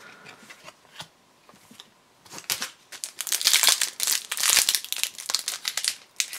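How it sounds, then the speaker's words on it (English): Foil-wrapped Flesh and Blood Arcane Rising trading card booster packs being torn open, with sparse crinkles early that build into dense, loud crackling and ripping of foil wrapper close up, with no talking. "And these packs are a little tougher to open than I'm used to."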